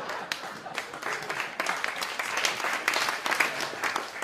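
An audience at a comedic cups-and-balls magic show breaks into sustained applause, a dense crowd of hand claps rising and falling.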